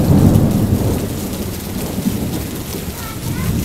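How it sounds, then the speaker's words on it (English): A severe warned thunderstorm over St. Martinville, Louisiana, in August 2011 brings loud, steady rain pouring down with deep thunder rumbling throughout. "Lots of thunder and lightning going on"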